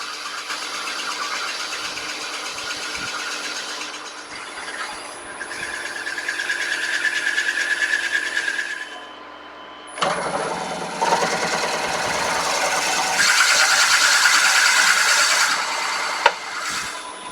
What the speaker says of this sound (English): I'm going to drop a big 7/8 drill all the way down for the depth